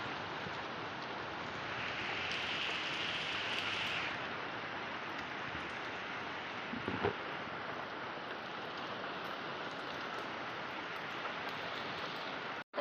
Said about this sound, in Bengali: কিন্তু প্রচণ্ড পরিমাণে বৃষ্টি হচ্ছে